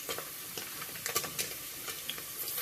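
Whole spices such as shahi jeera, cardamom and cloves sizzling in hot oil in a pan for palak paneer pulao, a soft steady crackle with faint stirring clicks, fairly quiet.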